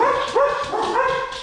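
A dog yips and whines in short repeated calls, close and fairly loud, with no other sounds around it.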